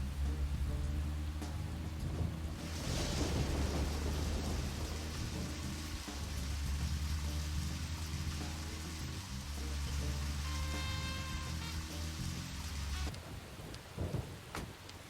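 Steady rain pours at night in the video game Deadly Premonition, with rumbling thunder swelling and fading under the downpour and no voices.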